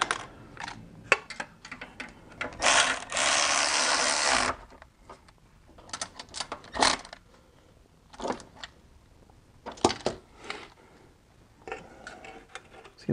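Ratchet with a 4-inch extension tightening the last two rear exhaust manifold bolts on a BMW E46 M54 engine, heard as short bursts of rapid clicking separated by pauses, with one longer sustained ratcheting run, close and fairly quiet.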